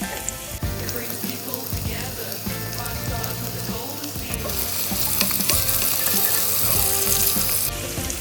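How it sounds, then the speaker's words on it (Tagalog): Chopped onion sizzling and frying in hot cooking oil in a pan as the base for a béchamel sauce, a steady loud crackling hiss that grows denser toward the end, with occasional stirring. "Ayan, mainit na. Lagyan na natin ang ating sibuyas."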